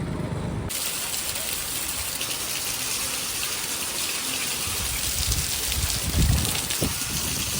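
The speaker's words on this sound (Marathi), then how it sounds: "हे बघा मित्रांनो कसला भयानक पाऊस चालू आहे" Heavy rain pours down in a dense, unbroken hiss, close and steady, with a couple of faint low thuds near the end.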